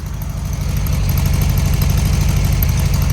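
A 1969 Volkswagen Beetle with a Solex carburetor and a diaphragm fuel pump idles up close, giving a steady, buzzy, rapid-pulsing rumble with no talk.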